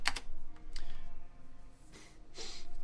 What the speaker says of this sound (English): I always have the habit of typing them in